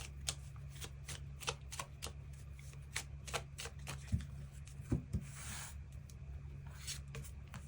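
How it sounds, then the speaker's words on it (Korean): Tarot cards being shuffled and drawn, with repeated crisp riffling snaps and soft slides close by, punctuated by a few taps as cards are laid down, with no talking. "추가 카드 뽑아보도록 하겠습니다"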